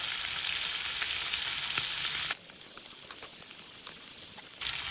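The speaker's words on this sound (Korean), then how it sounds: "고기를 넣고 노릇노릇하게 구워주세요." Steady, loud sizzling of meat frying in a hot pan for chop steak, a dense crackling hiss that briefly softens midway before rising again.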